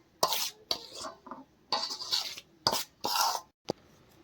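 Turmeric being stirred into flour for farsi puri in a bowl, giving a string of short, close scraping and clinking strokes with brief pauses between them.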